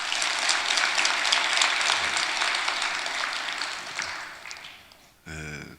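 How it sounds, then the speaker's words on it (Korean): A church congregation claps steadily after a youth choir performance, a dense wash of applause that fades out over several seconds before a brief vocal sound at the end. "박수 한번 쳐요"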